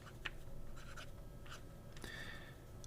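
A fountain pen with a broad steel Schmidt No. 6 nib scratches across paper in short, quiet strokes, faint and close against low background hiss.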